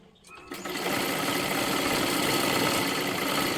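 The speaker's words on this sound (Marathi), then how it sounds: "अशी शिलाई मारत मारत आपल्याला इथे घ्यायचं आहे" A sewing machine stitching a blouse sleeve starts up after a brief quiet moment and runs in a steady, continuous mechanical whir, close and loud, with no talking.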